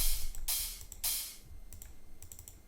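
A hi-hat sample from a dance track's drum loop plays as a few crisp, bright bursts of hissy noise, followed by quicker, quieter ticking hits, with no voices.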